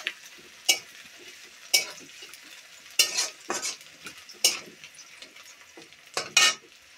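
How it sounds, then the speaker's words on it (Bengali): Onion frying in a pan gives a soft, steady sizzle, broken by repeated sharp scraping knocks as a spatula stirs it against the metal, close by and with no talk. "পেঁয়াজটা ভাজা হচ্ছে।"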